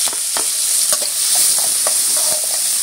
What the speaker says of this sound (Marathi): कांदा छान परतून घ्यायचा आहे आपल्याला कलर चेंज होईपर्यंत